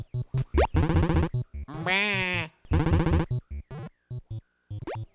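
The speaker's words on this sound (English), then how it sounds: "I like the sheep sound effects." Loud, repeated sheep bleats from a Bible-themed video game in quick succession, several overlapping wavering calls with a synthetic, game-like clarity.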